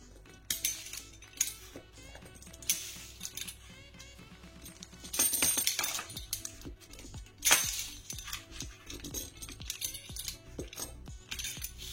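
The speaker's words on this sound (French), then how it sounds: "À l'aide d'un rouleau à pizza, je coupe des bandes tout au long." A pizza cutter rolls through pastry dough for a potato, ham and Mont d'Or tourte, giving a close, irregular run of light clicks and scraping clinks against the board, with no talk.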